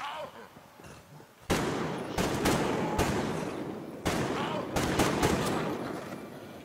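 Gunfire from the post-apocalyptic shooter game Metro Exodus: loud, close bursts of shots that kick in sharply, separated by brief gaps, with a second volley following a few seconds later.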